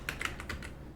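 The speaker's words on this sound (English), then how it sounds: "I can just finish typing in" Several crisp keystrokes on a computer keyboard, typed close by in a short quick burst before stopping, with no voices.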